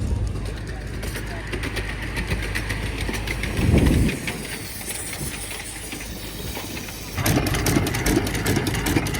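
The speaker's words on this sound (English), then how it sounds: "Be careful, there's a train coming." A train rumbles past at an outdoor country show with a rhythmic clatter and a deep roll that swells midway and again near the end, amid open-air ambience and faint background voices.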